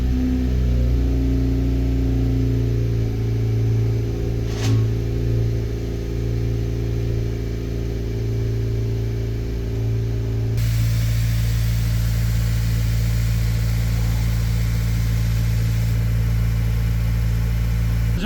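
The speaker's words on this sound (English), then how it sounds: "let's go ahead and start the vehicle for you guys so you can hear the little cold start" A 2025 Honda Civic Si engine with no exhaust fitted cold-starts and settles into a loud, steady idle with a constant mechanical hum and whir, continuing without speech.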